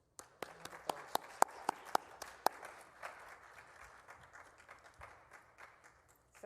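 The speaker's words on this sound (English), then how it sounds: "And a round of applause for all of our healthcare workers." Audience applause for healthcare workers at a COVID-19 vaccination event, opening with a few sharp, distinct claps before settling into soft, scattered clapping from a small room of people, fairly quiet and thinning toward the end.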